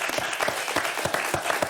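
A studio audience on a French television programme claps warmly, a thick, even patter of many hands that holds steady throughout the short burst.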